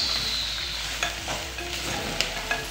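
Beef sizzles in a pan with a blended tomato mixture while a utensil stirs it, giving steady frying hiss broken by a few scraping stirs.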